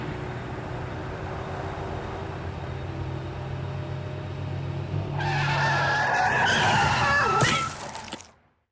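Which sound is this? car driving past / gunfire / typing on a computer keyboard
car driving past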